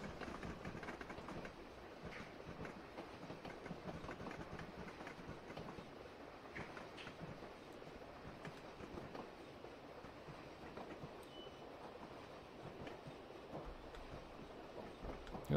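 A train in Train Simulator Classic slows on the Dorset Coast line from Bournemouth to Swanage approaching Wareham, a steady low rumble of wheels and carriages with faint rhythmic clatter throughout, no voices.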